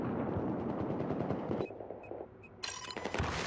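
Automatic M16A4 rifle fire in Battlefield 4, dense rapid bursts packed together at first, then a sparser stretch of isolated shots before a loud crack and another burst at close range.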